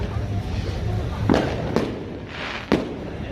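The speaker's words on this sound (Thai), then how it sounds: "คนก็มาดูการจุดพลุครับ" New Year fireworks go off in Helsinki, Finland, where residents are setting them off themselves. Several sharp bangs ring out over a constant roar of crowd and wind outdoors.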